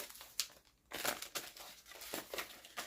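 Paper envelope being handled and torn open, close crinkling and rustling with a few sharper ripping bursts, fairly faint and without talk.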